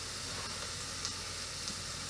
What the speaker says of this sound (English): our mirepoix, our carrots, celery, and onions have been sauteing for just a minute